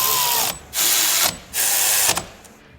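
Power drill driving bolts into a belt drive assembly, three sustained whirring runs separated by brief pauses, loud and close.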